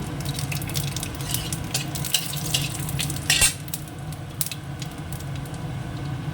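Dry red chillies, cumin and panch phoron sputter and crackle in hot oil, a continuous dense sizzle with scattered sharp pops and a brief louder burst midway.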